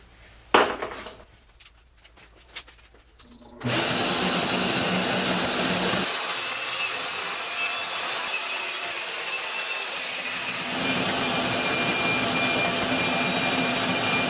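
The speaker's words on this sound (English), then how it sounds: "I break them down using this shop-made saw track, and I'm going to rip a couple strips at 11 and 1/8 inches" Circular saw running along a shop-made saw track, ripping plywood sheets into strips without dust collection: a few brief clunks and handling sounds, then a loud, sustained high whine as the blade cuts steadily through the sheet.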